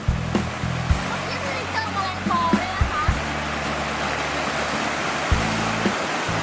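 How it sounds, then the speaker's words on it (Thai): A waterfall stream rushes steadily outdoors, a continuous broadband wash of flowing water with low thumps from wind or handling, and some faint voices beneath. "ดูบรรยากาศน้ำไหลใกล้ๆ"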